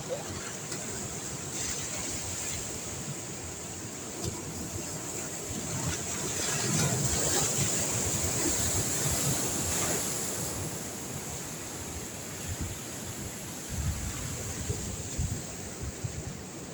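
Big monsoon sea waves surge at Harihareshwar beach, a rough ongoing roar of surf that swells louder midway and then eases, mixed with wind buffeting the microphone.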